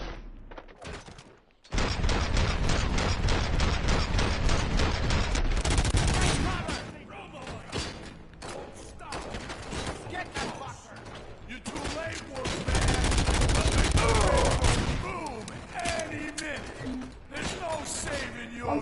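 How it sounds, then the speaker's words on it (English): Video game gunfire in RoboCop: Rogue City, with sustained dense bursts of rapid shots and mechanical clatter running for most of the stretch, loud and close, with brief lulls and a voice under the action. "Am I hearing gunshots?"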